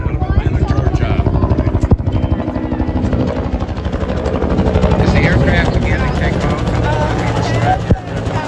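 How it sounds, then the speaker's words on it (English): A US Army H-1 Huey helicopter at an air show gives a loud, rhythmic rotor thump and turbine roar that swells as it approaches, with a crowd and announcer talking over it. "Here comes the Huey."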